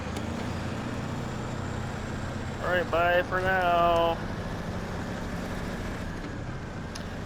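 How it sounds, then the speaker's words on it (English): A loud truck engine in the SnowRunner video game, set in a burned forest, rumbles as a steady drone throughout while someone briefly speaks over it. "It's as loud as, this truck's just loud."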